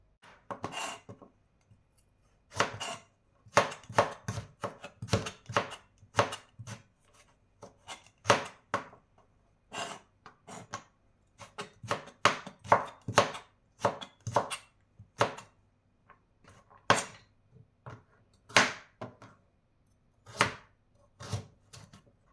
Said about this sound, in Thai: ยายจะเตรียมหั่นผักต่างๆ ไว้ก่อนนะคะ